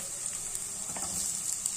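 Green peas hit hot kachchi ghani mustard oil in a kadai, giving a steady, bright sizzle with a few soft stirring scrapes, close and continuous throughout.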